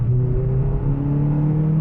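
A Toyota hot hatch engine revs hard up an on-ramp as the variable valve timing engages, a steady loud drone with rising harmonic whine, continuous and close with no talk.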